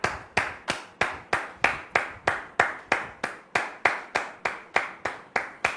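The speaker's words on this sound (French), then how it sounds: "Recevons maintenant le frère Martial sous vos applaudissements." One person clapping slowly and evenly, about three claps per second, each sharp and distinct with a short room echo, alone and fairly soft, as a brother is welcomed at a French-speaking church gathering.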